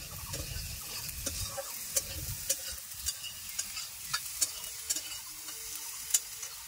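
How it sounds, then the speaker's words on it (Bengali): Half a spoon of ground cumin fries in a pan for a bhindi posto dish, giving a steady close sizzle broken by regular scraping ticks of a spoon stirring, with no talk. "হাফ চামচের মতো জিরে গুঁড়ো দিয়ে দিচ্ছি। ভালো করে ভেজে নেব।"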